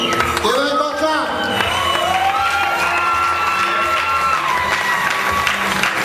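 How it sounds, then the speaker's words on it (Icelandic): A crowd at a rock concert claps and cheers loudly throughout, with whoops and shouts rising over the steady applause and a voice calling out partway through. "Gefum þeim gott klapp."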